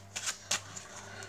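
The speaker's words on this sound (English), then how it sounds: "I would get the spectator to shuffle the cards when I show it to them" A deck of playing cards is shuffled by hand during a card trick. A few soft, brief riffling bursts sound close and quiet against a faint background hum, with no talking.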